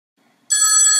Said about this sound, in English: I still haven't picked up my phone, but it's still ringing.